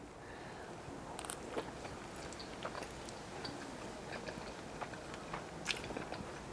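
Someone chews gyoza coated in Mike's Hot Oil chili oil, making faint, close, soft bites and small crunchy clicks that repeat irregularly over quiet background hiss.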